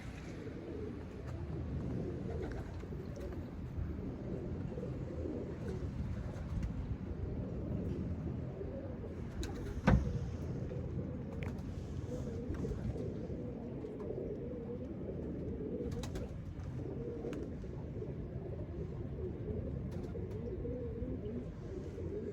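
Pigeons coo in low, continuous murmuring throughout a cold outdoor scene, with faint rustling and a single sharp knock partway through, and no talk.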